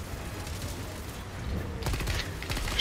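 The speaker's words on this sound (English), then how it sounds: "That's the Gatling barrage" Gatling barrage fire in the video game Helldivers 2: a dense, rumbling volley of rapid shots that swells louder partway through and keeps pounding to the end.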